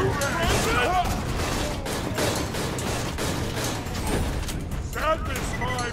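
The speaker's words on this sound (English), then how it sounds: "That was a good machine gun" Machine gun fire in the video game Borderlands 2, dense rattling bursts with booms and mechanical clatter mixed together, loud and steady under voices talking.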